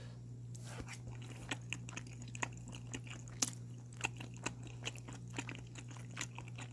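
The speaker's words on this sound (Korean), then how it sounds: "이거는 초장 찍어서 한 번 더 먹을게요." Crunchy chewing of fresh raw fish dipped in chojang sauce, eaten outdoors on an island after sea fishing: steady, close bites and crunches repeating at an even pace over a low constant hum, with no talk.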